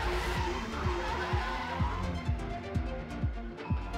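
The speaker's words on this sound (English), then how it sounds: "The moment of the weekend so far has to go to Will Davison as he spun at 200 kilometres per hour over McPhillamy Park." Race car at Bathurst during a 12-hour endurance race spinning out at high speed over a crest, a continuous engine and tyre roar with repeated low thumps as it skids, loud and close.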